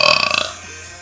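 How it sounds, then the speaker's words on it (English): A single strong burp in a burping contest, close to the microphone, rattles in a fast, croaky pulse for under half a second before dying into quiet room tone. "So hard to time burps."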